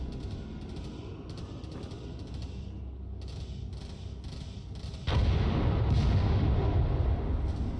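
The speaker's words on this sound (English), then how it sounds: "Check out that explosion." A Crossfire Legion video game explosion, a loud low rumbling boom that swells suddenly over a steady background of battle noise and then lingers.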